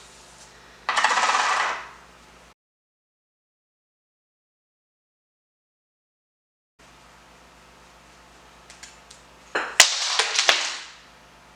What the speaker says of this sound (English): I dropped my earring.